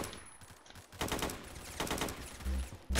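Automatic and rapid gunfire in Roblox, an AK47 and G18 among the weapons, crackles in dense bursts through the whole stretch. The shots are loud, with a heavier thump near the end and no talk over them.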